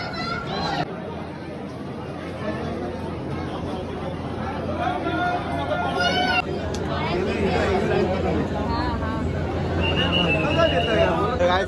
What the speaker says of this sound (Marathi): फुल गर्दी आहे, फुल.